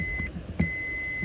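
A thin electronic multimeter continuity tone beeps briefly, stops, then sounds again as a continuous beep to the end, over faint handling noise, while testing ground points in a VW Atlas Cross Sport.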